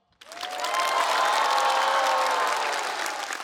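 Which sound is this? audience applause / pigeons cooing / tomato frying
audience applause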